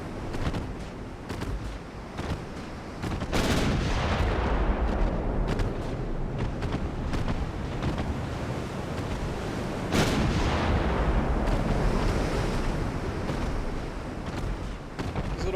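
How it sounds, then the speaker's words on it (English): Heavy naval gunfire from 5-inch deck guns in Ultimate Admiral Dreadnoughts: loud, booming cannon blasts and sharp reports over a dense rumbling battle backdrop, with big salvos landing near the 3-second and 10-second marks. "These little 5-inch guns are no joke, man."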